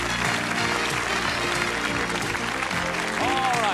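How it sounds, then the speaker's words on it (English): Studio audience applause on the 1990 game show Strike it Lucky, sustained clapping under music and a host's voice, with a rising tone near the end. "Let's give a nice round of applause"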